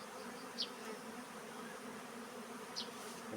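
A steady, low insect hum from a honeybee swarm fills the whole stretch, with a couple of brief higher buzzes as individuals fly close past.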